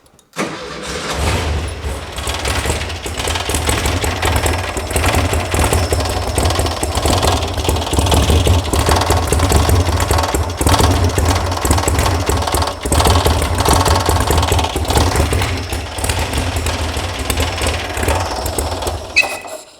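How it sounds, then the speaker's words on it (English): A VW sand rail engine with newly installed electronic ignition runs loudly and steadily up close for about twenty seconds, a heat shield rattling over the rough, pulsing engine drone. "There's a heat shield rattling."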